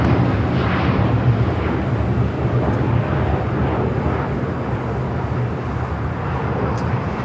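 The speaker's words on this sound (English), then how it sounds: "Japan Airlines heading back to Osaka, Japan, flight 69." A Japan Airlines jet departs LAX bound for Osaka, its engines a loud, steady broadband roar with a heavy low rumble that holds throughout, without any voices.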